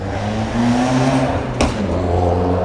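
A loud car engine revs on a city street in New York, a strong rising and falling roar with a sharp burst of noise near the end, close and dominant.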